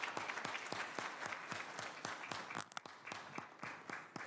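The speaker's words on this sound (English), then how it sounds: "Please, let's give a hand of applause to Dr. Ndlovu." Applause rises from the audience at a university agriculture and environmental science symposium, with sparse, fairly distinct claps at a moderate, even pace that continue throughout.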